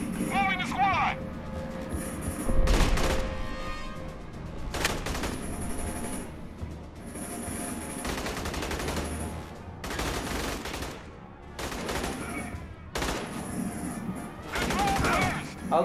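Shotgun blasts and gunfire crack in the video game Aliens: Colonial Marines, loud repeated bursts mixed with game sound effects while a player talks over the action.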